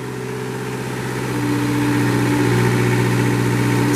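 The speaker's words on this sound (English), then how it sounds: "we're gonna hear that Kubota come to life. Hear that thing, it was just cold started." A Moffett forklift's Kubota engine, cold-started, idles with a steady, close mechanical hum and stable tones, its loudness rising slightly before holding even.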